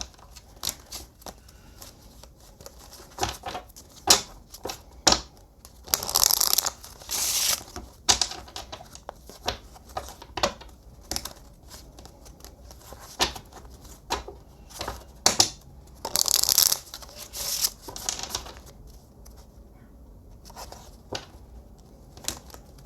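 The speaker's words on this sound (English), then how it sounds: "One thing that just came to mind as I was shuffling this deck" A deck of tarot cards is shuffled repeatedly up close: crisp riffling bursts and scattered taps and flicks, with brief louder shuffles and no speech.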